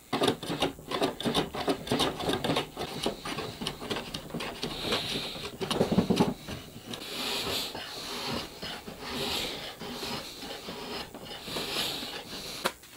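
A number 4 hand plane shaves along a wooden electric guitar neck in a workshop, with repeated rasping strokes that come in close, uneven bursts.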